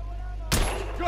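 A single sharp gunshot from enemy fire in the video game The Order, cracking out after a quiet moment and followed by a brief echoing tail.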